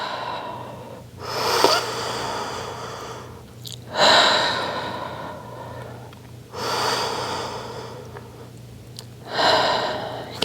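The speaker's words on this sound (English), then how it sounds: "Inhale through the nose" Slow, deliberate breaths during a Pilates mat session, each a long audible inhale through the nose followed by a softer exhale through the mouth, repeated about four times at an even pace, close and alone.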